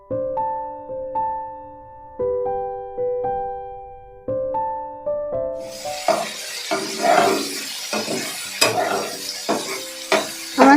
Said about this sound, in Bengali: চিংড়ি মাছ বেশি সময় ধরে ভাজবো না